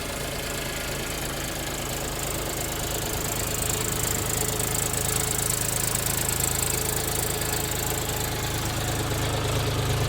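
A Lovol Foton 244 24 hp tractor engine runs steadily close by, a loud continuous rumbling chug with even knocking, alone and unchanging throughout.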